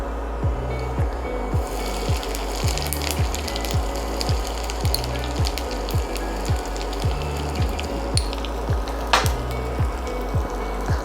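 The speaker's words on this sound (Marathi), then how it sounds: "आता आपण त्याच्यात घालूया हिंग" Asafoetida drops into hot oil with popped mustard seeds, tempering for a prawn pickle. A soft, steady sizzle runs throughout, over a regular thumping rhythm in the background.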